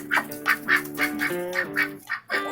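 Ducks quacking loudly and close, a rapid series of nasal honking calls one after another with no talking.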